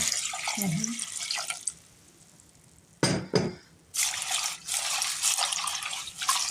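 Linden flowers are rinsed under running tap water, with a steady splashing flow that stops briefly, then resumes in strong gushes, close to the listener.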